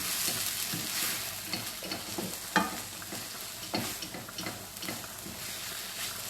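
A meatless stir fry mixture is stirred in a hot pan, giving a steady sizzle broken by repeated scraping and clattering strokes, close and fairly quiet with no talking.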